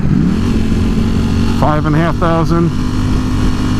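Close, loud engine drone from a 2018 Ducati Panigale V4S motorcycle with a dual clutch transmission, riding steadily under a man's brief speech, with the engine note continuing beneath his voice.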